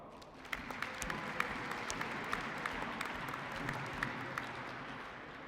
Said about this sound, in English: She also deserves a round of applause.